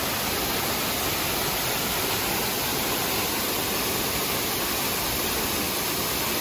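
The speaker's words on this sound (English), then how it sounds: "I love going to the waterfalls." A waterfall at the EPCOT Canada Pavilion gives off a constant, dense roar of rushing water that is loud and unbroken throughout, with no voices.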